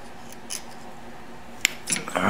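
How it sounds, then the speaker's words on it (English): Scissors or cutters snip off an excess guitar string on a Gibson ES, a sharp click followed by brief metallic snipping and handling noise over a quiet room hiss. "after I cut that extra string off"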